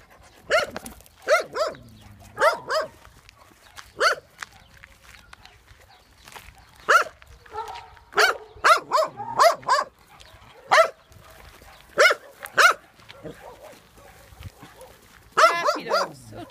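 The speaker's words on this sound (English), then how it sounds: "Happy dogs." Dogs bark and yip in short bursts at a kennel with large runs, several nearby barks spaced irregularly with footsteps and a voice now and then between them.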